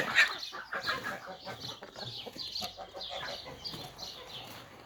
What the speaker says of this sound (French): C'est l'heure où ils cochent tous. Mes 4 coqs.